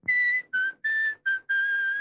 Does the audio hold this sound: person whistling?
yes